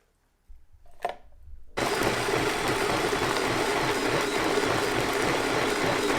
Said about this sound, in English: We're just going to blend out until it's a nice little thick paste, not chunky at all.